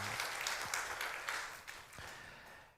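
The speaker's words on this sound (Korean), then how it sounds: "하나님께 영광의 박수 올리겠습니다." A church congregation claps in praise during a Korean worship service, a faint, dense patter of applause with a few sharper claps that gradually tapers off, heard alone without speech.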